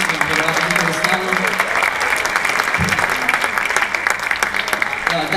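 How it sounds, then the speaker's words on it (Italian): An audience at an evening music event in Monza applauds the organisers, a loud, continuous crowd of clapping hands close by, with a few voices mixed in. "facciamo un applauso a chi ha organizzato tutto questo, a Jessica, a tutti i ragazzi che vengono,"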